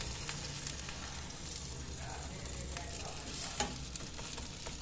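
Folded taco shells fry gently in a pan, with a soft, steady sizzle, faint crackles and light stirring, close but quiet and with no talk.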